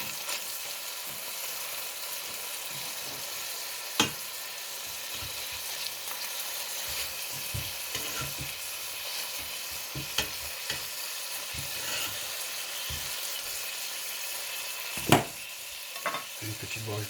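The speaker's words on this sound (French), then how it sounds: "on va faire revenir tranquillement l'huile d'olive. Les deux faces." Paupiettes browning on both sides in olive oil in a pan give a steady, even sizzle, with occasional sharp clicks and spits from the pan throughout.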